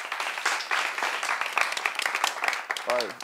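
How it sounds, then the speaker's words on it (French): An audience claps for a guest at a French-language public street show, steady mid-level clapping mixed with crowd voices and a brief whoop-like call near the end. "On peut l'applaudir, s'il vous plaît."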